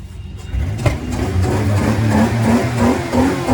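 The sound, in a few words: 1995 Dodge Caravan SE engine revving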